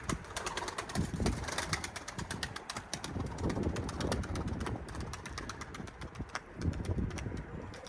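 Escaped tumbler pigeons on a rooftop give low, repeated cooing amid wing and scuffle noises, moderately close and steady over outdoor background.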